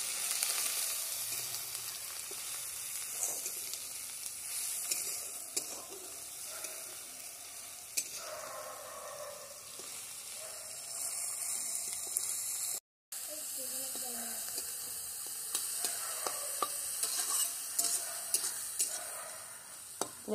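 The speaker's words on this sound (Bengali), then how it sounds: "দেখুন চিংড়ি মাছগুলো একটু লাল লাল করে ভাজা হবে" Small shrimp sizzle steadily in a hot pan while being stirred for a home-style taro-leaf curry: a close, continuous frying hiss with stirring scrapes, cutting out for a moment midway before resuming.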